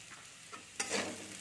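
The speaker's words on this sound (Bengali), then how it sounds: "দিয়ে এটাকে আরেকটু ভালো করে ভেজে নেব।" Potatoes frying in a pan with salt and turmeric, a soft stir early on, then a brief louder burst of sizzling and scraping close by.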